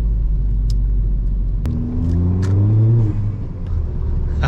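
A car accelerates to higher speed after a wheel bearing replacement, a deep steady interior rumble with a rising engine tone as it picks up speed; no talking.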